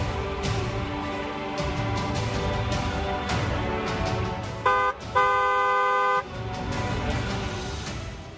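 A car horn blares in a sustained honk near the end, loud and close, over a dense backdrop of traffic and engine noise.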